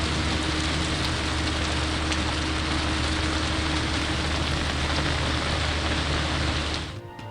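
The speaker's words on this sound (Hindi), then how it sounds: "कराची में कहीं हल्की कहीं तेज बारिश" Steady, dense rain pours across Karachi, a broad continuous hiss holding at full strength for about seven seconds before fading out abruptly.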